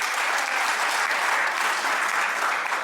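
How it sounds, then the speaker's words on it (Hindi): Loud, dense applause from a college audience welcoming a guest onto the stage, a steady unbroken clatter of many hands clapping throughout. "इनके लिए एक बार जोरदार तालियां हो जाए"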